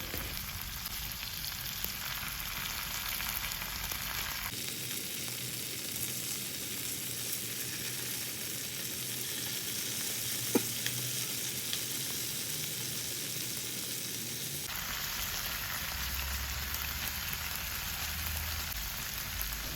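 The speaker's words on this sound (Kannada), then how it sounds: "ಇವಾಗ ಟರ್ನ್ ಮಾಡಿ ಇನ್ನೊಂದು ಸೈಡ್ ಫ್ರೈ ಮಾಡಿಕೊಳ್ಳಿ" Coated prawns sizzle on a tawa as their second side fries, giving a continuous crackling, rain-like hiss at moderate level with a faint click midway and no voices.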